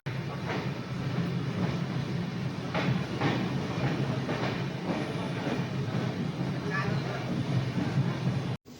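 The 12837 Howrah–Puri Super First Express runs just after leaving Bhadrak station, giving a continuous rumble with a regular clickety-clack of wheels over rail joints at moderate loudness.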